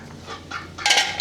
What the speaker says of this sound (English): the duck is here to help